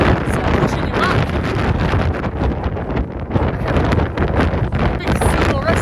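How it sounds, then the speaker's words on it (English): Strong wind buffets the microphone on a steep hillside incline, a loud, continuous roaring rumble with gusty swells that stays dense and unbroken throughout. "this wind, it's just like pushing you back"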